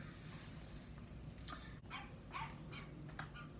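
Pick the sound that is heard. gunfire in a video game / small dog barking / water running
small dog barking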